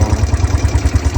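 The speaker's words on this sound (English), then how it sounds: "About to ride some ATVs." An ATV engine idles close by with a fast, even low-frequency throb and rumble, loud and steady with no talking.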